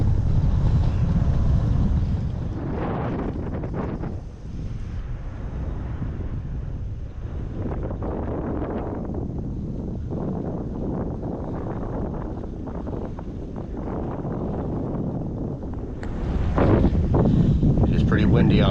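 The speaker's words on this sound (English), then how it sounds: "It is pretty windy on this bridge." Strong wind buffets the microphone on a bridge along a bikepacking route from Pittsburgh to DC, a loud, continuous rumble that gusts and eases over the whole stretch.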